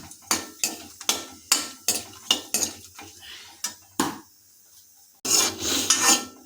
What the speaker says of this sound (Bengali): জিরে গোটা জিরে যোগ করে দিয়েছি তাই এটাকে আমরা ভালোভাবে হাতে দিয়ে নাড়িয়ে দেবো